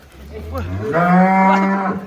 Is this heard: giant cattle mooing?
yes